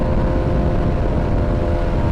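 1000cc liter-class motorcycle riding on back roads, a dense continuous roar of engine and rushing wind heard close and loud for a couple of seconds.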